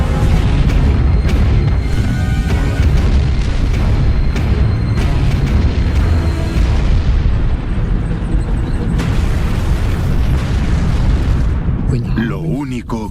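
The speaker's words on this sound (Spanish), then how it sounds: "Enormes explosiones." Huge explosions and artillery-like booms rumble continuously in a tank battle at El Alamein, Egypt, loud, dense and sustained with layered blasts.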